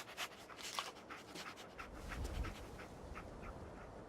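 Dogmeat, the dog companion in Fallout 4, sniffs and pants softly in quick, airy bursts, faint and close, with a low rumble building briefly in the middle.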